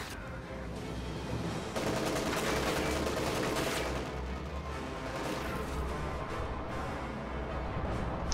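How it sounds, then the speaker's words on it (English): Dense World War II strategy game combat with volleys of gunfire and rattling bursts over rumbling battle noise. The firing stays loud and continuous, with tanks and infantry engaged. "Under fire! We are taking losses!"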